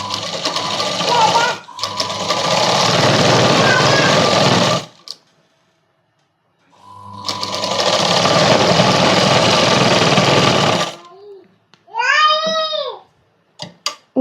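An electric sewing machine stitches a child's night dress in two long loud whirring runs with a pause between, followed by a few short bursts near the end.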